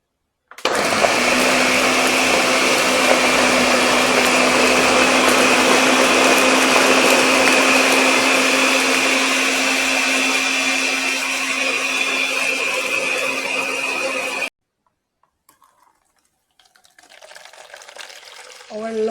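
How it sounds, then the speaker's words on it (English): Blender whirring through watermelon, pineapple and fresh mint with no water added, a loud, steady motor roar with a churning liquid edge that runs for about fourteen seconds, then stops and leaves quiet handling noises. "So I'm going to just add full up my blender and continue to blend."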